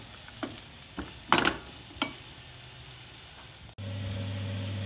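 Onion frying in a pan for a chicken and rice dish, with soft stir scrapes and brief sizzling bursts, then a steady low hum that continues to the end.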